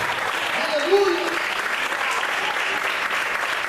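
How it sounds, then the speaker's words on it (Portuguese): A church congregation applauds and praises during an evening sermon, producing steady, dense clapping that continues evenly for a few seconds, with a brief voice rising over it near the start. "Você pode aplaudir e exaltar ao Senhor por isso."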